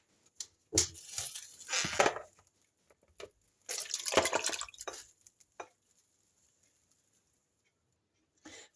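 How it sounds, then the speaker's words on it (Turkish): Liver that had soaked in water and milk being strained in a kitchen, heard as bursts of pouring and dripping liquid with a few wet splats and drops between them, close and otherwise quiet. "Bakın bir saat su, sütün içinde beklettim ciğerleri. Ve şimdi hemen süzüyorum."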